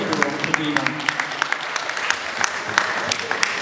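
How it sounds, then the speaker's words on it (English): An audience claps through a round of applause at an evening talk, with distinct sharp hand claps standing out over a softer crowd patter and some background voices mixed in. "Round of applause."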